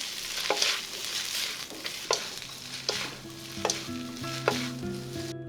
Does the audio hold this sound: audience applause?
no